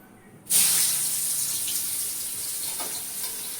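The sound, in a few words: onions frying in hot oil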